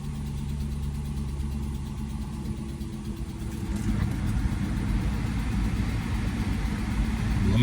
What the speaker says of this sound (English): Engine's sounding like it's supposed to.